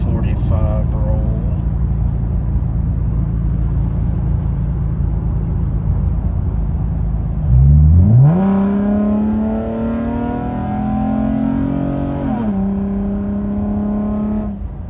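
A 2011 Chevrolet Camaro with a 3.6L V6 cruises at a steady drone, then accelerates hard from a 45 mph roll, its engine note climbing in pitch through the revs before levelling off, heard from inside the car.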